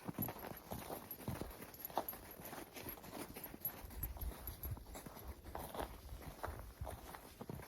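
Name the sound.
dog walking in booties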